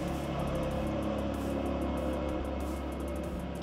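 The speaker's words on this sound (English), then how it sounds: "Loud cars driving by." Loud cars driving past outside a South Carolina home, a continuous, steady roar of traffic and engine noise that stays dense and even for the whole stretch, with no speech over it.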